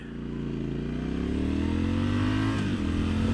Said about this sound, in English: it revs way faster when it's in road mode